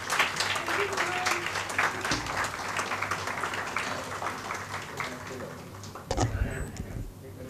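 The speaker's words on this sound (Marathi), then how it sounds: "सगळ्यांनी आपण त्यांच्यासाठी टाळ्या वाजवूया" A seated crowd at a Diwali book launch in a Pune gallery claps in sustained applause, busy and close, with voices mixing in and a brief burst of handling noise near the end.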